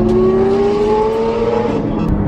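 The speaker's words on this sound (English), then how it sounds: "Probably the best sounding car on the whole rally, this Mercy with the Avant-Garde Exotics exhaust" A Mercedes fitted with an Avant-Garde Exotics exhaust revving loudly nearby during a car rally, a strong steady engine drone whose pitch climbs and then falls away.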